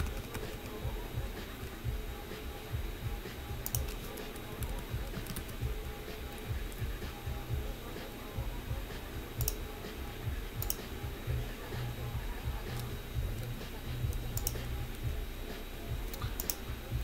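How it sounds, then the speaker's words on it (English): Computer keyboard keys clicked repeatedly while saving in KiCad circuit design software, a sparse, irregular series of faint, crisp taps over a steady low background hum. "the keyboard clicking is me hitting Control S even in KiCad"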